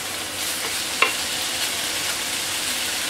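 Minced meat and garlic sizzle in a pan with a steady bright hiss, broken once by a short clink of stirring, close and alone without talk.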